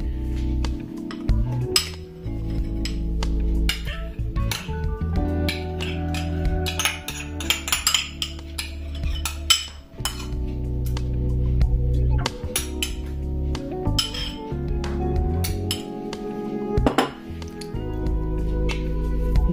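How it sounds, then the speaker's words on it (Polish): Mayonnaise being spooned into a mixing bowl, with soft wet squishing and repeated clinks of utensils against the bowl, close and clear with no talk. "Do naczynia miksującego wkładamy 200 g majonezu."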